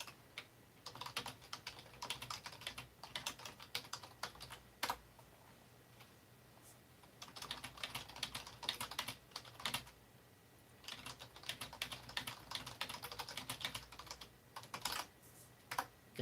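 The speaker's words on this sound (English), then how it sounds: "Good thing all those typing classes really paid off." Rapid typing on a computer keyboard, clattering in bursts separated by short pauses, close and clear with no other sounds.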